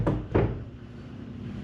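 Closet door pushed shut against drywall with a hole in it: two short knocking thumps about a third of a second apart, close and fairly loud, then quiet room tone.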